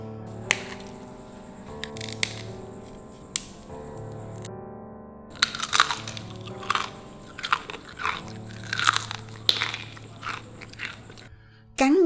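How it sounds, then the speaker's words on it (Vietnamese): Crunchy sugar-glazed green banana crackers topped with sesame and ginger being bitten and chewed up close, a series of sharp crisp cracks and crunches spaced over several seconds, with background music playing underneath. "Cắn miếng chuối giòn rụm, thơm mùi gừng và mè."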